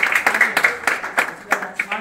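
Students in a classroom at a coaching academy clap in a run of sharp, ragged bursts, several quick claps close together, loud and near, with a voice speaking between them.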